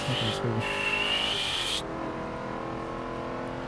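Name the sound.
Formula E car driving in video game Forza 7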